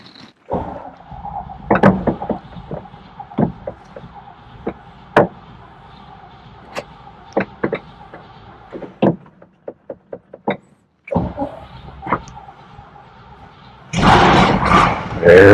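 The engine of a 1971 GMC C5500 truck cranks in a series of short, separate mechanical bursts with pauses between them, then catches and starts, ending in a loud, sustained roar.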